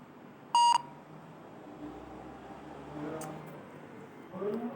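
A handheld scanner gives one short, bright electronic beep while reading a Jio SIM card, heard early over a quiet room hum with faint background noise.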